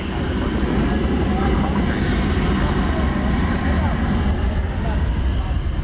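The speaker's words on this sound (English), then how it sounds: "As we watch American Flight 662 depart for Denver, that is Airbus A321" Airbus A321 jet operating as American Flight 662, departing for Denver from an airport runway, heard as a steady, continuous engine roar and rumble that stays loud throughout.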